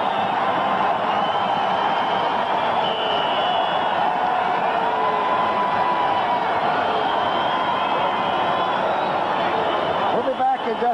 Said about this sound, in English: The crowd is roaring as Jim Hart comes in the game